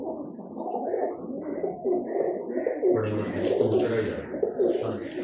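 Domestic pigeons coo in soft, low, repeated rolling calls close by, with a nearby voice talking over and between them.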